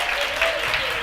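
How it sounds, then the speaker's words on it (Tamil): Brief burst of a church congregation clapping during a Tamil sermon, dense and close, with a voice heard over the applause. "கைத்தட்டுங்க ஒருத்தவர்."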